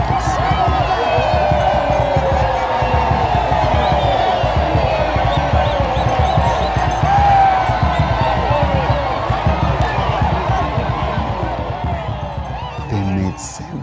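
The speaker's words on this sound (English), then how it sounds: "ululation and jubilation from the huge, excited waiting crowd of spectators" Huge, excited crowd of spectators at the Kuomboka ceremony ululates and cheers, a dense, loud, continuous roar of voices with rhythmic thumping underneath and a spoken voice over it.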